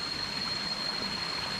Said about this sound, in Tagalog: yung ilog niya, hindi ganun kalalim